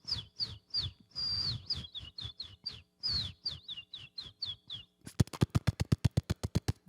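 A man imitates bird chirps with his mouth, a rapid series of high whistled tweets with sliding pitch, then finishes with a fast run of sharp percussive clicks, close and clear with no talking.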